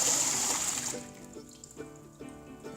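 Water being poured out of and rinsed in a ball python's water bowl, a soft close trickle and splash that fades into quieter dribbles and small drips.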